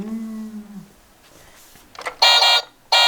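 Two loud electronic beeps from a toy truck's reversing alarm, each a steady tone about a third of a second long, following a brief hum and quiet clicks.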